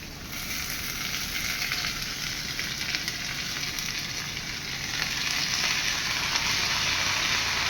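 Cabbage hits a hot kadai of half-cooked ingredients for a home-style Bengali cabbage dish, giving a steady, loud, close sizzle of frying that holds evenly throughout with no talking.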